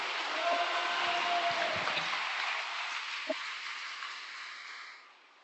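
Faint, steady applause from a congregation at a vigil prayer service honouring a missionary, a broad even wash that thins and fades out near the end.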